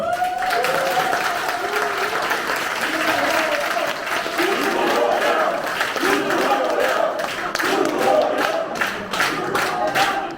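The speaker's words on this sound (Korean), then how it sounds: "우리 당과 나라를 위해 큰 일을 하실 주호영 후보님을 당원 여러분께 힘차게 박수로 소개시켜 드립니다" Party members in Incheon applaud and cheer as candidate Joo Ho-young is introduced, a dense, loud wall of clapping with voices and shouts rising through it, sustained for the whole stretch.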